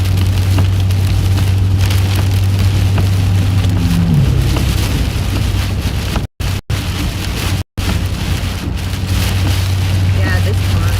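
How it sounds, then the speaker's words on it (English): Strong gusty wind roars steadily across the microphone during a storm chase through Illinois and Indiana under a tornado warning, with a low engine hum beneath and a couple of brief dropouts. "Look at these trees. They're blowing. Gusty winds."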